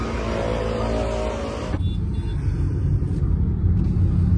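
A used Hyundai Eon's small engine rumbles and revs during a test drive, a low droning hum that steps up in intensity partway through as the car pulls away, heard from nearby without talk.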